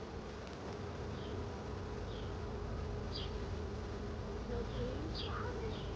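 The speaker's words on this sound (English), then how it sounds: "There's just so many bees." Dense swarm of honeybees buzzing at an open hive box, a steady close drone filling the air with individual bees zipping past near the microphone.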